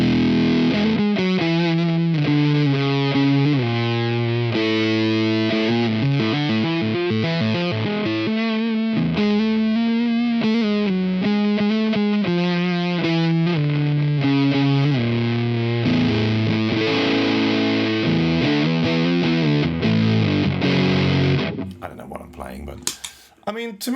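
An electric guitar played through a Big Muff fuzz pedal, into a Two Notes Genome, churns out thick, heavily saturated chords and riffs, loud and continuous for about twenty seconds before cutting off into brief fumbling noise.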